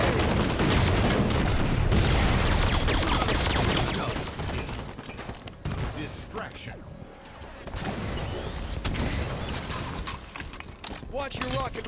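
Hostile gunfire in Halo 5: Guardians social arena multiplayer, with loud, dense bursts of automatic fire and explosions that fill the whole clip, easing slightly midway before picking up again.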